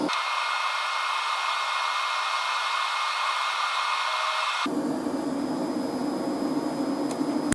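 A YesWelder MIG Pro 250 welder jogs its wire feed motor, giving a steady close whirring hiss that shifts partway through into a deeper, fuller hum, with no talking.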